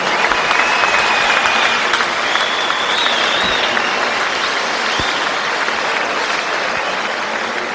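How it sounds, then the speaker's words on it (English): A boxing arena crowd applauds loudly after a twelve-round fight, a dense, sustained wash of clapping with a few faint whistles rising above it. "Both boxers deserve a big round of applause."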